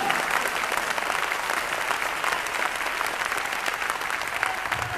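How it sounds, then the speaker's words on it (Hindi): Sustained audience applause at a public program in Kolkata, a steady dense wash of many hands clapping at even loudness throughout, with no voices standing out. "जोरदार ताली होनी चाहिए।"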